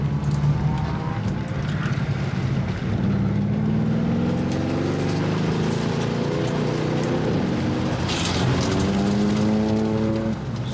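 A Mercedes-AMG car laps a short race track, its engine droning steadily close by as the pitch climbs and falls with repeated acceleration, heard alone for the whole stretch.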